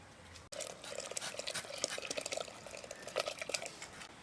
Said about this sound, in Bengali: এখন ধুয়ে রাখা চালটা দিয়ে দেব।